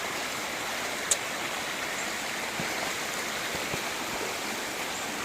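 Steady, full-bodied rushing floodwater flows without pause, like a swollen creek churning past, with no voices over it.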